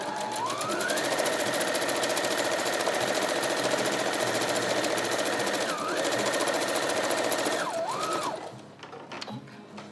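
A sewing machine stitches forward and then back across a fabric face mask, a loud continuous whirring rattle that briefly dips mid-run, then stops near the end.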